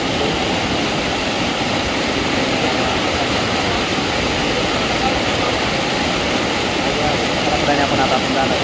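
Strong, rushing water pours down continuously along a steep mountain trekking trail in the Kurangani Hills. The roar is loud and broadband, close by, with no voices over it.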